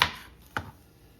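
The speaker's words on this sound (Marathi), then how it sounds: "असा कांदा आपण उभा कापून घेतो आहोत" Two crisp knife chops cut an onion lengthwise on a board, close and fairly quiet, spaced about half a second apart.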